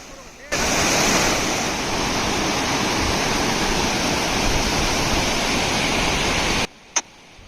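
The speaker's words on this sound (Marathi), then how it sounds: "हे खूप छान मनमोहक धबधबे छोटे छोटे जे आहेत ते बघायला मिळत आहेत" Rushing water from small waterfalls near a dam pours steadily nearby, a constant broad whoosh that starts and stops abruptly.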